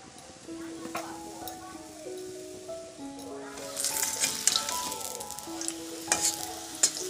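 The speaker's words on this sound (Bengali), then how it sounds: "ওইদিকে দেখো 2টা রুটি ছিল, এই যে আমার জন্য একটু তেল দিয়ে ভাজা করে নিচ্ছি" Roti fries in oil in a pan with a steady crackling sizzle that grows busier partway through, with occasional utensil taps and a voice talking over it.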